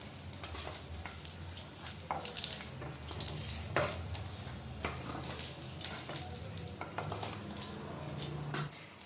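Lote fish fritters wrapped in bottle gourd leaves fry in oil with a soft background sizzle, broken by close clinks and scrapes of a utensil against the pan.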